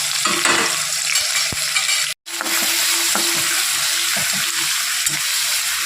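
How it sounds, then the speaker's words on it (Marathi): Onion and tomato sauté with curry leaves and two or three green chillies for a chicken curry, giving a steady, close, loud sizzle with stirring scrapes that cuts out for a moment partway through. "कांदा आणि टोमॅटो परतून घ्यायचं चांगलं"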